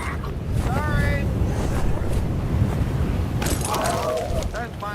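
Wind and surf effects for the Test Drive game scene, a steady broadband rush of wind and ocean waves filling the clip at moderate loudness, with brief tonal whistles and a voice briefly over it.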